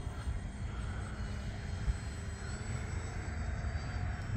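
An E-flite Valiant RC airplane flies past, its small electric motor a steady, moderately faint drone against open outdoor air with no talk.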